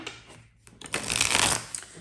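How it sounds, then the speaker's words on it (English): A deck of tarot cards being shuffled by hand, a brief riffle then a dense, crisp flurry of card slaps lasting about a second, close and fairly loud with no talking. "Okay, one more shuffle."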